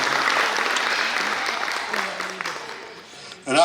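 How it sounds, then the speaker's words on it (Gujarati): A crowd at a Bhagavat Katha religious gathering in Vrindavan claps loudly to welcome a speaker, a dense sustained applause that gradually thins and fades, then a voice comes in at the very end. "એકવાર જોરદાર તાળીઓના ગડગડાટથી વધાવો"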